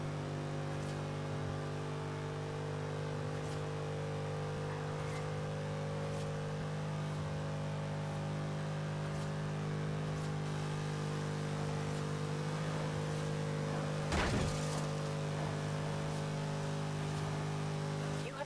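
Pontiac Firebird Trans-Am with a 525 HP build running at high speed in sixth gear in Forza Horizon 3, a steady loud engine drone and road whir held throughout, with one brief sharp burst near the end.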